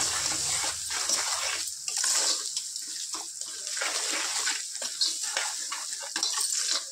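Ginger garlic paste with turmeric is stirred in a hot cooking pan, giving a steady run of soft scraping and sizzling strokes close by, with no talk.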